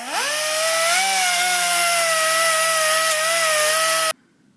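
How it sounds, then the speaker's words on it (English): A cutoff wheel with a gasket-removing tool grinds old gasket material off a sport quad engine during a clutch job, producing a loud, steady whining spin for about four seconds before stopping abruptly. "we're gonna clean off this old gasket material with a cutoff wheel with a special gasket removing tool"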